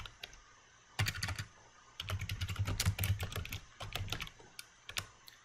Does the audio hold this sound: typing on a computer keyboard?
yes